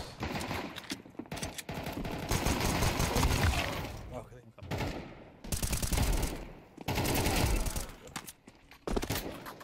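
Dense bursts of rapid gunfire in Counter-Strike 2 on the Inferno map, loud and crackling, come in several long volleys separated by brief pauses.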